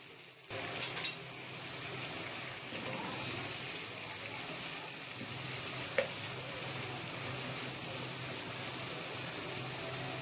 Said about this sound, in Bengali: সামান্য একটু জল দিয়ে দিলাম, যাতে মশলাগুলো পুড়ে না যায়।